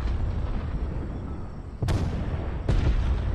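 Tank cannon blasts in a video game: two heavy, sharp booms roughly a second apart ring out over a constant low battlefield rumble, close and loud.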